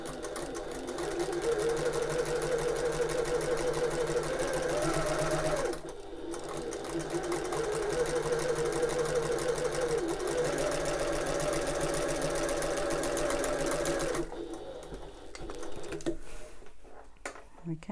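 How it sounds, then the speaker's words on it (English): Sewing machine running in steady bursts as it stitches closed the turning gap of an open-top tote, with a brief pause near six seconds and a stop around fourteen seconds, followed by quieter handling. "now we can close this turning gap just with a close machine stitch"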